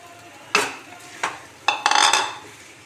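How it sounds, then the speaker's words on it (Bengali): Fried pointed gourd (potol) tipped into a pan and stirred with a metal utensil, producing a few sharp clanks and scrapes, then a cluster of quick clatters over a faint background sizzle. "এইবার এটার মধ্যে ভাজা পটলগুলো দিয়ে দেব।"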